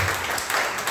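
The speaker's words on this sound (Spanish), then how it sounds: "Denle un aplauso al Señor." A church congregation applauds, a brief wash of many hands clapping at once, steady and moderately loud.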